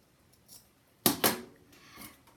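Scissors snip through artificial flower material for a Dollar Tree Valentine wreath, with two quick close crisp cuts and a softer third snip, plus a faint rustle just before.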